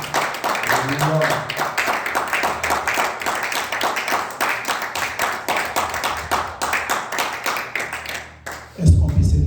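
A church congregation claps together in a fast, steady rhythm to acclaim the Lord, sustained for about nine seconds under voices before breaking off abruptly.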